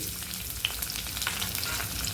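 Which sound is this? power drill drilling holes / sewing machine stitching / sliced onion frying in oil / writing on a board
sliced onion frying in oil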